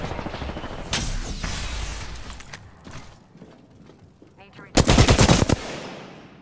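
Automatic gunfire in the video game Apex Legends, with rapid bursts near the start and a loud, dense volley near the end, over continuous game sounds.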